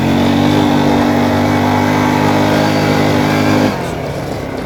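A quad bike engine running steadily on a trail in the Morvan in France, loud and close with a sustained mid-pitched drone, then the revs drop sharply near the end.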